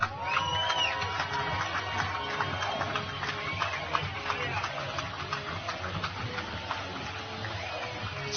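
A crowd cheers and yells for an angler at a bass fishing tournament weigh-in on the St. Lawrence River, a steady roar of shouts and whoops with voices and a loudspeaker-style announcer mixed in.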